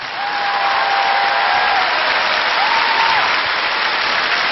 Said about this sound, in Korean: 이렇게 뜨거운 환호와 반응 정말 감사합니다.